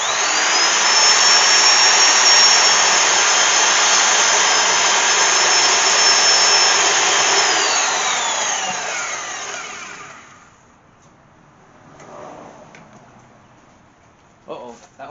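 A power tool screams loudly and steadily as it cuts through a hose, then spins down and fades out, with a few faint knocks and handling sounds afterward.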